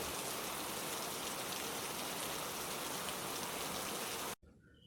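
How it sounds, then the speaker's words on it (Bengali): Steady, dense rain hisses without a break, then cuts off abruptly just before the end. "রাত থেকে হালকা ঝোড়ো বাতাস আর বৃষ্টি পড়া শুরু হয়ে গিয়েছে"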